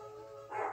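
A cartoonish dog barks in the platform game Klonoa: Empire of Dreams, one short yap rising over steady game music near the end of the moment.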